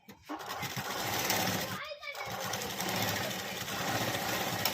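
A sewing machine runs in a steady, continuous whir while stitching dori, pausing briefly near the two-second mark before carrying on.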